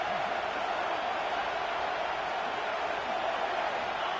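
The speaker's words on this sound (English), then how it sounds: "The Tide crowd rolling noise down on the Saban field on third down." A steady, broad crowd roar fills an NCAA football video game as the Alabama Crimson Tide home crowd makes noise on third down, a constant wash of sound with no breaks or talk.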